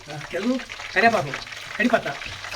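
Curry leaves go into hot oil already holding mustard seeds, cumin and dried red chillies, crackling and sizzling briefly beneath a voice speaking over the pan.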